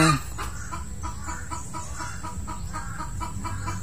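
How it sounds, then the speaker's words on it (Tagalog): A chicken squawks and clucks in an agitated, repeated series of sharp calls, alarmed by a crow, over steady outdoor background noise at a farm. "pumuputak ang manok."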